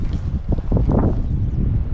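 Wind blows across Tsalka lake in Georgia, rumbling steadily against the microphone with uneven gusts, near and fairly loud with no other clear sounds.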